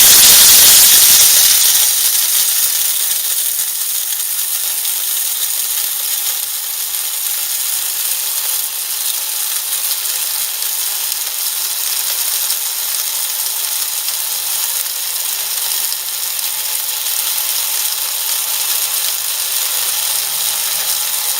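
An electric grain mill grinding dried corn into fine cornmeal, a steady loud whirring hiss running continuously and close, with no talk over it.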